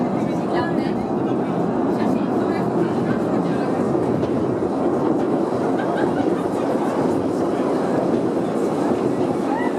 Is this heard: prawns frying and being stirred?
no